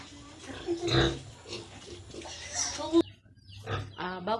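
A young piglet separated from its mother gives a few short oinks and squeals, fairly close and loud, mixed with other animal noise and a person speaking in the background.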